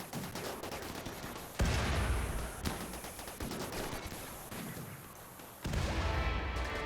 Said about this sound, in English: Okay, here come the explosions.